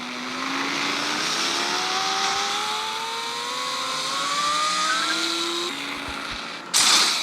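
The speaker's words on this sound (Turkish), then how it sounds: "3, 2, 1 çarpışan araba başlasın birbirimize çarpacağız." Bumper cars in a video game rev their engines with rising, whining pitch, loud and steady, before a sharp crash-like burst near the end.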